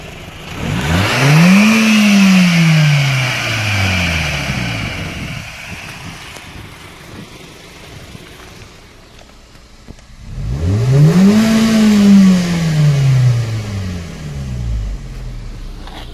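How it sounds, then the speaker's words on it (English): A coupe's engine revs twice, each time climbing sharply in pitch and then falling back and settling, with a quieter idle in the gap between the two bursts. "So I'm going to show you an example of me revving my car."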